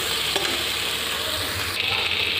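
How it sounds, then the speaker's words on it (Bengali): Pointed gourd tossed with spice paste in a frying pan for a Bengali doi potol dish gives a steady, close oily sizzle with soft scraping from stirring throughout. "এখন পটলের সাথে মশলাটা ভালো করে আমি নাড়াচাড়া দিয়ে নেব।"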